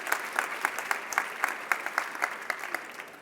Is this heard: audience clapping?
yes